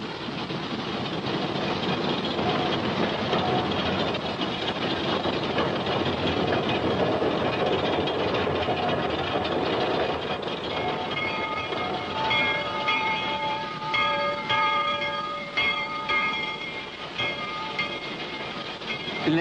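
A train rolls along the Madeira-Mamoré railway in Brazil, its wheels clattering steadily over the rails with a rumbling, continuous roar and intermittent rhythmic clicks toward the end.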